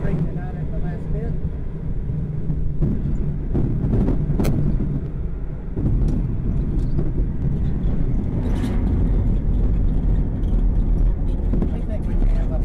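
A glider rolling out after landing on a flat tire, a steady loud low rumble and rattle throughout, with people talking over it.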